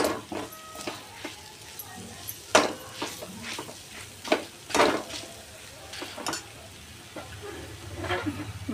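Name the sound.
pav bhaji vegetables sautéing in oil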